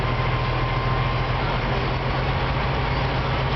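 A truck engine is held at about 1,000 RPM during a CDL air brake test, giving a steady, even drone with a low humming tone throughout and no talking.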